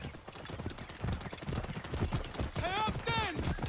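Horse hooves clip-clop at a fast gallop during a race in the video game Assassin's Creed Origins, set in ancient Egypt, a steady rhythmic pounding under game sound, with a horse whinnying briefly near the end.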